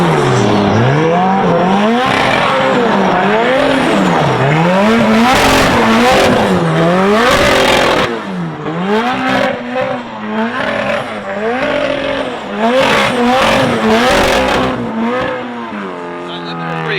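A K-swapped FRS race car pulls hard on a racetrack, its high-revving engine screaming up and down through repeated gear changes. The sound is loud and close throughout, easing slightly in the second half.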